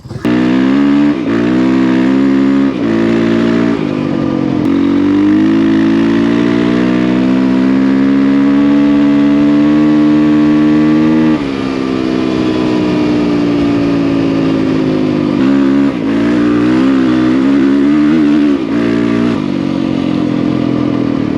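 A Yamaha WR450 motorcycle's 450 cc engine drones loudly and close while riding, holding a steady pitch with brief dips and rises as gears change and the throttle shifts.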